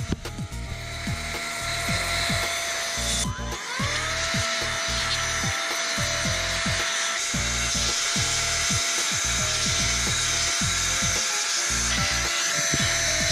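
A rechargeable electric air duster blows dust from a car interior and seat gaps, giving a steady, loud motor whine and airflow hiss with rattling, scraping bursts throughout, and no talking.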